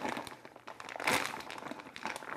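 Plastic packaging crinkles and crackles as it is pulled off deer shoulders, close and loud in a few uneven bursts with a sharper tearing rustle near the middle.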